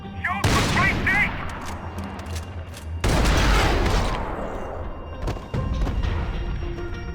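Gunfire in Max Payne 3: heavy, booming volleys of shots with crashing impacts, loud and close, broken by short pauses, with shouted voices over parts of the action.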